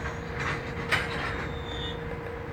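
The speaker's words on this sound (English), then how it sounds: "the train's making noise" Train cars clatter and rumble near a truck parking spot, a steady, fairly faint rolling noise with a few brief squeaks and clanks, no talk.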